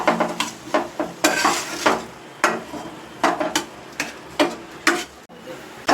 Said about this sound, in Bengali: এটাকে আমি ভালো করে নেড়ে ছেড়ে একটা পুর করে নেব ভিতরে